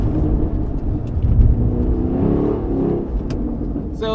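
A 2016 Chevrolet Camaro engine pulls hard on a driving course, a loud low rumble that swells and holds from inside the cabin, with brief clicks and a voice faintly mixed in.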